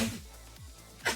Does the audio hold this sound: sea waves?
no